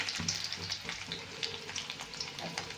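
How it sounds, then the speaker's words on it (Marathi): Mustard seeds and a little garlic frying in hot oil for an okra dish, a soft, continuous sizzle with faint crackles, close and fairly quiet. "तेल चांगलं गरम झालेलं आहे आपलं आता थोडंसं टाकून घेऊया आपण मोहरी टाकलेली आहे थोडासा लसूण टाकलेला आहे"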